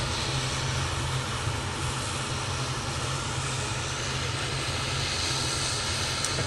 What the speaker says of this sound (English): I can see that the Air Transat is now making its way out towards us now, using the 321 LR